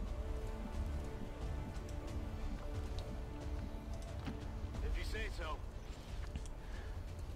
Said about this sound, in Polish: Aj, po cholerę deszcz.